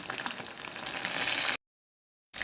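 Chicken pieces fry in hot oil until crispy, giving a dense, steady sizzle and crackle up close before the sound cuts out abruptly partway through.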